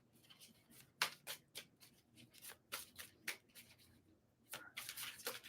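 Tarot cards shuffled by hand for drawing more cards, a close run of crisp riffling bursts and flicks with short pauses between, fairly quiet with no voices.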